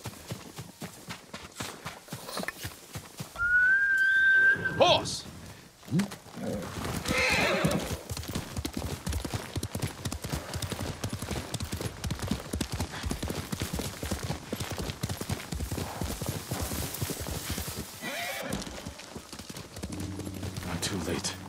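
A horse lets out a sharp whinny, then hooves clop in a fast, steady gallop, with faint voices in the background, in the video game Ghost of Tsushima on PS5.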